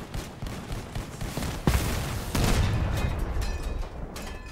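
Vehicle-mounted weapons firing in Crossout, a vehicle combat game with tanks, sound as a dense rumbling stream of shots and booms over steady engine noise, with a couple of sharper heavier reports.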